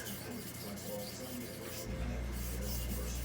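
A knife blade with a broken tip is drawn across a 400 grit sharpening stone, making a quiet, continuous gritty rubbing and scraping sound heard close and alone.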